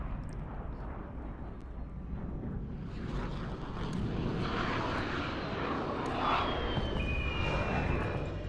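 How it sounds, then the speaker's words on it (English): A VTOL jet aircraft in a Call of Duty video game flies overhead as a steady, loud engine roar that swells toward the middle and end, alone with no talk. "Friendly VTOL jet on station."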